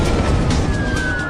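An alarm siren sounds at an airport fire station, a loud, sustained tone sliding slightly downward over a dense rumbling background, lasting only about a second.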